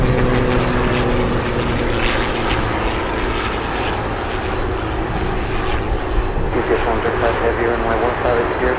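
A Cessna Grand Caravan turboprop runs at Anchorage airport, giving a steady loud propeller drone with buzzing harmonics throughout, with a voice speaking over it.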